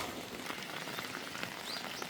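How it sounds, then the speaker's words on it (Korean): Steady rain falling outdoors in autumn countryside, a faint continuous hiss with scattered drop ticks, no voices. "지금 비가 내리는데"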